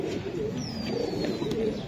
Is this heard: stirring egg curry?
no